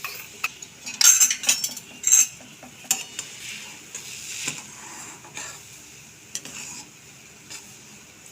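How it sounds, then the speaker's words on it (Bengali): A spoon stirs daliya (broken wheat) into milk in a pot, giving intermittent scrapes and bright metallic clinks against the rim, with a quiet bubbling sizzle between strokes and no voices. "ডালিয়াটা দুধের সাথে দিয়ে ভালো করে মিক্স করে নিচ্ছি।"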